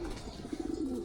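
Soft, repeated pigeon coos from a racing-loft bird, a low rhythmic burbling that swells briefly near the middle and end over a quiet outdoor background.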